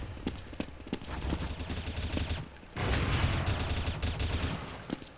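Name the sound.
gunfire from an enemy player in a video game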